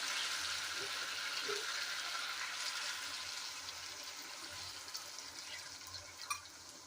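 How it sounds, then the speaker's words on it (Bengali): Hot water poured into sautéed Bengali-style chicken curry sets off a strong frying hiss and bubbling that slowly fades as the pan settles, with light splashes and stirring close by. "এবার আমি গরম জল দিয়ে দেবো"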